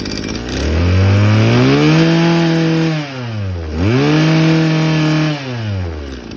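A Mitsubishi TM24 Japanese grass trimmer engine runs close by, revving up to a high buzzing whine, dropping briefly, then revving again and holding before easing off.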